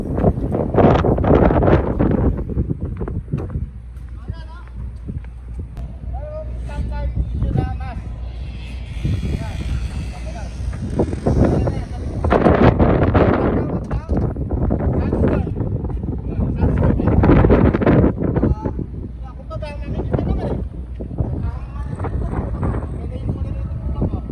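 Sandstorm wind roars steadily across the microphone in Jizan, loud and gusting throughout, with people talking over it.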